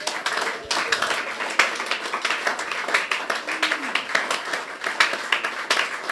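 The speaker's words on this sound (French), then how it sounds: "On peut applaudir la gloire de Dieu." Church congregation applauding during a worship service, a dense burst of many hands clapping steadily throughout, loud and close, with a voice briefly heard over it.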